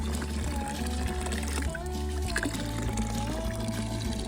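Fresh Dolomite spring water pours and trickles steadily into a trough in the Val Zoldana mountains, a continuous liquid splash close by with faint background sounds.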